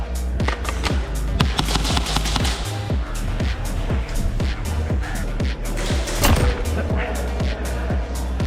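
An airsoft gun firing during an outdoor team deathmatch game, a quick series of sharp, snappy pops in an uneven rhythm, fairly close and steady over a noisy field background.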